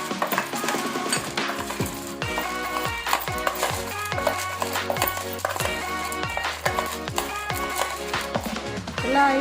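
A spoon stirs fried chana dal with salt and chili powder in a pan, with rhythmic scraping strokes and gritty rattling of the dry lentils, close and loud throughout.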